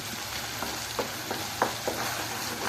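Masala with red chili powder and tomato sautés in a pan, a continuous gentle sizzle punctuated by several soft, evenly spaced spatula scrapes.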